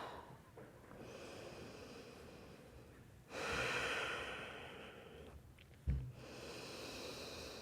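Quiet breathing during a yoga child's pose, with slow, soft inhales and exhales drawn out over several seconds, close and gentle, with a brief sniff partway through.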